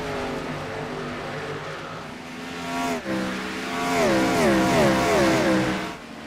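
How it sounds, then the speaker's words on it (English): Race cars circling Richmond's short oval in the iRacing video game, several engines whining and revving with rising and falling pitch as they slide through the turns, loud and steady throughout. "Cars are still slipping and sliding here in Richmond."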